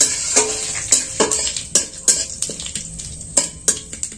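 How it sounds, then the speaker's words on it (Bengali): Cumin seeds and bay leaf fry in a pan while a utensil stirs them, giving sharp metallic scrapes and taps in an uneven rhythm, about a dozen clear knocks, over a light sizzle, close and fairly loud. "একটু নেড়ে ছেড়ে ভেজে নিচ্ছি"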